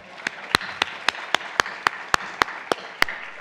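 A single pair of hands, or very few, claps for panelists at an art and justice event, about a dozen sharp, evenly spaced claps with a soft room murmur beneath.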